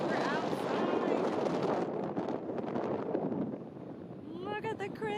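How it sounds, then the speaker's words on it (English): Strong wind buffets the microphone on a ship's helipad, a loud rushing roar that eases slightly before people begin talking at the end. "I'm sure you noticed it's quite a bit windy"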